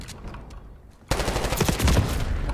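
Gunfire in the online shooter game Call of Duty: Black Ops 6, quiet scattered shots then a sudden loud burst of rapid automatic fire continuing to the end.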